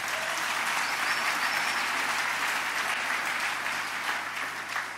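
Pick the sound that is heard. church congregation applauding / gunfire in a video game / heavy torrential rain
church congregation applauding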